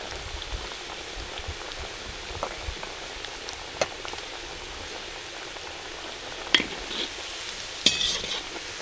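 Fenugreek pakoras deep frying in hot oil, a continuous close bubbling sizzle with occasional sharp taps from a slotted spoon, no voices.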